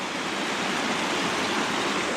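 Water flows steadily over a beaver dam, a continuous broadband rushing and splashing like a small waterfall, moderately loud and unchanging, with no voices.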